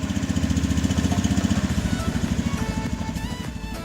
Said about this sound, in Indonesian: Lalu nyalakan mesin motor.